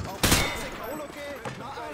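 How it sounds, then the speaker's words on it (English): A rifle fired from the hip at range targets in Call of Duty Modern Warfare 2 bursts out as a loud rapid volley, then another short burst, with someone talking over the gunfire. "He sprayed bullets all over the damn place."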